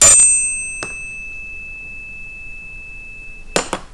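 Two bells are struck with bright clicks, leaving a sustained ringing tone that swells and fades in a slow beating pattern before a further pair of sharp strikes near the end.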